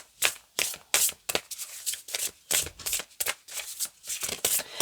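A deck of cards is shuffled: rapid riffling bursts follow one another in an uneven rhythm, close and clear, with no voices.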